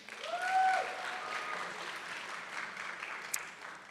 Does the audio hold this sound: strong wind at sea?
no